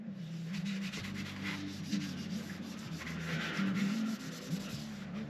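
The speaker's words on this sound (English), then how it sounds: "Carry on wiping it with the other side." A cloth rubs steadily across the shell of a motorcycle helmet during cleaning, a continuous close-up scrubbing and wiping sound with small shifts in pressure and no voices.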